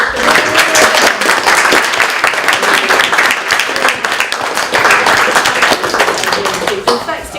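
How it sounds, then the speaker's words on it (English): Audience applause for a guest at Clevedon Library, a loud, steady round of clapping that lasts the full stretch with some voices mixed in. "A round of applause for"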